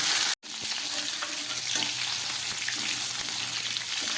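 Cauliflower florets, soaked in salt and turmeric, frying in hot oil in a pan: a steady, close, continuous sizzle, with one brief dropout near the start and no talking.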